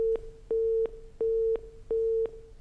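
A telephone line tone after a call drops during a live phone-in, with four evenly spaced steady beeps of about a third of a second each and short gaps between them, clear and alone with no talk.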